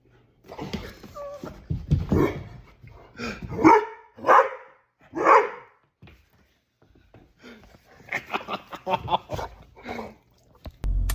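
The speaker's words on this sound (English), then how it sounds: "Yeah, and that's my dog." Blue, a rescued dog, whimpers and barks in loud, close bursts, with high whines broken by sharp yips and barks and a brief pause midway.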